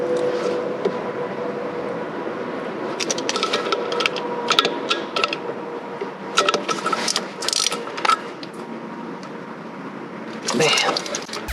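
Bolts on a fuel control actuator being snugged tight with a hand tool, intermittent clicking and metallic ratcheting bursts over a steady background hum, fairly close.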